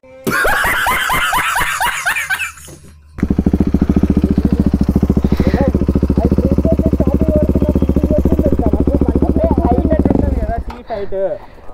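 A KTM RC390 or Aprilia RS457 sport motorcycle roars loudly under hard acceleration on a weekend ride, with a sustained rising engine drone, preceded by people laughing and talking near the microphone.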